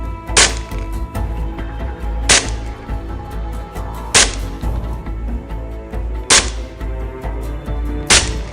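A Tokyo Marui Five-Seven gas blowback airsoft pistol fires five sharp, loud cracks, each about two seconds apart, over a low background hum.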